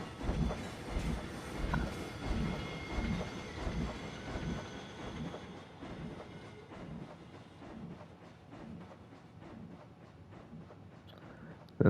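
A train rolls along its track in the Planet Coaster park-building game on PS4, with steady clickety-clack wheel rhythm and faint squealing, continuous and moderately loud for the whole stretch, ending in a sudden burst.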